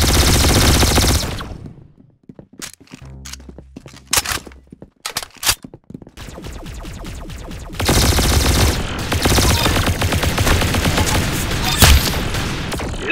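Gunfire from the Roblox game Arsenal comes in loud, dense bursts of rapid automatic shots, broken by a stretch of scattered single shots and booms before heavy firing resumes.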